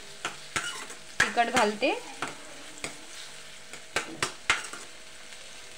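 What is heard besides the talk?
tomatoes and onion frying in oil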